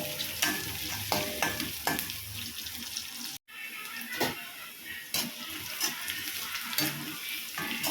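Onions sizzle and sauté in a pan with repeated scraping stirs of a spoon, close by, with a brief pause midway.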